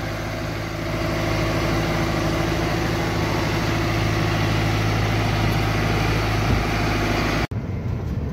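Small tractor engine chugging steadily with a low droning hum, rising slightly as it climbs out of a pit, close and continuous before cutting off abruptly near the end.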